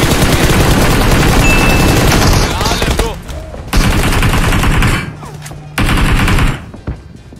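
Rapid gunfire in the mobile battle royale game BGMI: loud, dense bursts of automatic shots with brief pauses between volleys and a short final crack.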